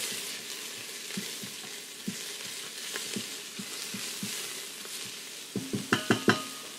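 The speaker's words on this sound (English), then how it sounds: "Then to that, I'm going to throw in my diced onions. Get them going a little bit." Diced onions sizzling in olive oil in a pot, a steady close frying hiss with scattered soft taps, ending in a quick run of louder clinks from stirring against the pot.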